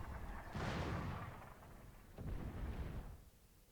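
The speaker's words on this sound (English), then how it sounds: "this artillery can reach all the way over here" Artillery fire in the Supreme Commander 2 strategy game on the Heart of the Depth map: two deep, rumbling booming bursts, each swelling and fading over about a second, fairly distant, with no talk.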